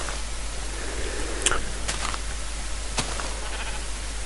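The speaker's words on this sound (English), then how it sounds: "Sheep is over here." Sheep in a video game bleat several times over steady background noise: one near the middle, a second soon after, then another later on, each short and fairly close.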